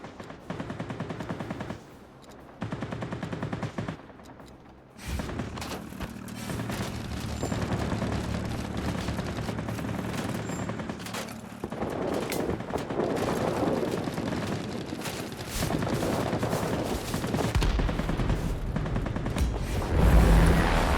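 Anti-aircraft gunfire in a flight combat video game around a Dornier Do 17Z bomber, loud rapid bursts and booms rolling over a continuous roaring engine drone, with short gaps early on.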